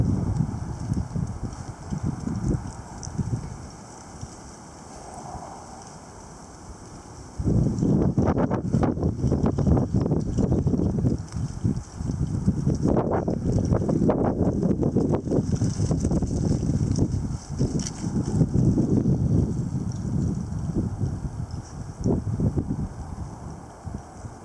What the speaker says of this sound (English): so it is still windy. Still fairly windy.